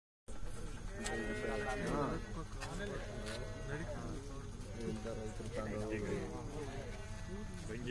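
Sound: sheep bleating in a vehicle being taken to slaughter

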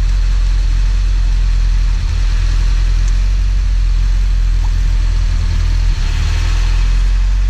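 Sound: Alfa Romeo Giulia Veloce Spider engine running

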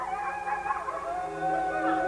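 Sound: dogs howling

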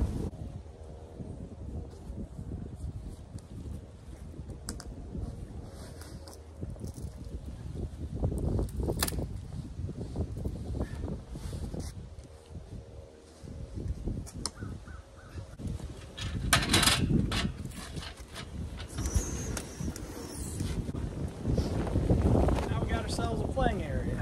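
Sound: wind blowing outdoors at camper roof repair

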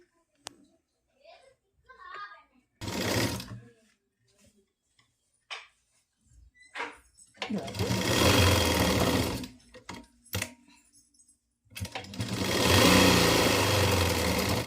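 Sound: sewing machine stitching a pleated nighty

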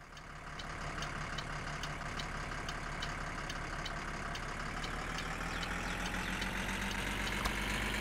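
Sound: motorhome engine running in video game My Summer Car

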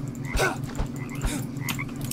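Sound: frog croaking

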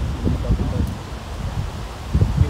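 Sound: wind blowing

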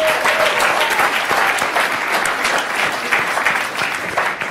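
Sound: audience applause at a masterclass

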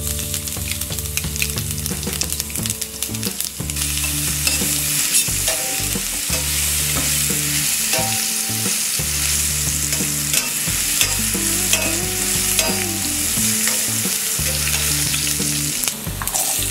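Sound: mustard seeds, asafoetida and garlic sizzling in hot oil

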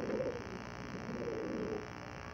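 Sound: pigeons cooing

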